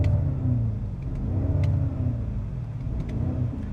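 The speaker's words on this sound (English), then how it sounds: "it has that signature classic V8 rumble" Deep, steady rumble of the twin-turbo V8 in a BMW X7 M60i SUV set to Sport Plus, with low harmonic throbbing and slight rises in engine note across a few seconds, loud and close with no talking.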